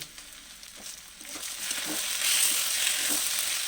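Chopped tomato frying with onion in a pan, a steady close sizzle that swells louder through the second half with faint stirring scrapes and no voices.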